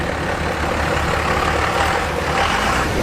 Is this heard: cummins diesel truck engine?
yes